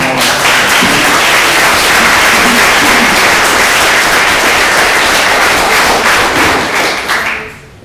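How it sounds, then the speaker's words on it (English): Loud, dense round of applause from an audience at a panel discussion, sustained for several seconds as a continuous wash of many hands before tapering off at the end. "How about a nice round of applause?"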